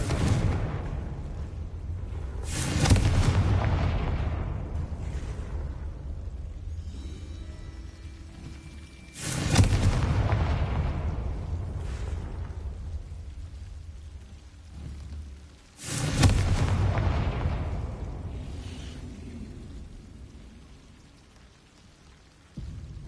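Three loud Confringo fire-spell blasts go off in the Hogwarts Legacy video game, spaced several seconds apart. Each booming burst fades into a long rumbling tail.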